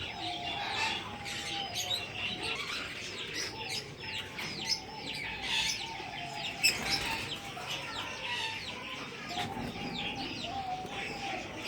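Parrots in a nest box keep up a continuous jumble of chirps, squawks and squeaky calls, moderately close and overlapping throughout with no talking.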